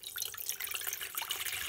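Water is poured steadily into a pot of stuffed vegetables (dolma), making a soft, continuous splashing trickle that lasts a couple of seconds.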